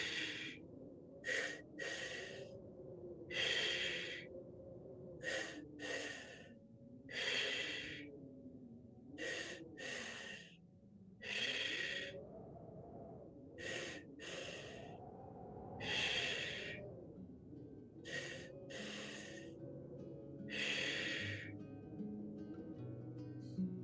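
Conscious, continuous breathwork through the mouth, each inhale and exhale a loud, close, airy rush following the next with almost no pause, in a steady rhythm over a low, soft background drone.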